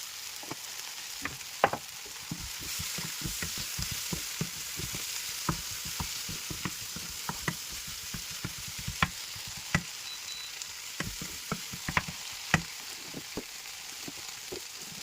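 Soya chunks frying in a pan with turmeric powder added, a soft continuous sizzle dotted with frequent small crackles and pops, fairly quiet and without voices.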